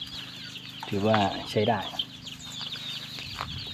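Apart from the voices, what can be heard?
chickens clucking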